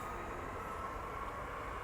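A steady rumbling drone of a train running along the tracks, faint and distant, with a thin tonal whine above the low roar.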